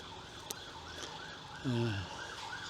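A faint siren wails up and down in the distance over steady traffic on a busy road beside a churchyard in Launceston, Cornwall, with a vehicle briefly rumbling closer partway through.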